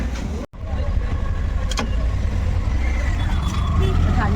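Auto rickshaw ride through town on a rainy Dahi Handi festival day, a steady close engine drone and road rumble running throughout beneath a voice, with one brief dropout near the start.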